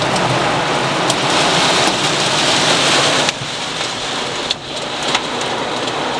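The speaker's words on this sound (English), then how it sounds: "It's raining so hard, it looks like I'm in a car wash." Heavy, cold rain with some hail pounds down steadily and loudly, a dense continuous roar with scattered sharper impacts, close by and with no voices.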